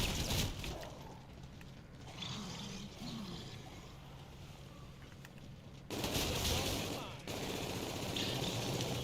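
Rapid gunfire in Black Ops II Zombies fills the scene, a dense, continuous rattle of shots with louder bursts toward the end, over a busy game backdrop with faint voices underneath.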